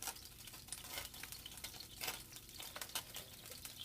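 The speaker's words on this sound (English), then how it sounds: "We're going to see if it sizzles." A hot skillet, greased and ready for omelet eggs, gives off a quiet, continuous sizzle and crackle of frying, with faint irregular pops and no talking.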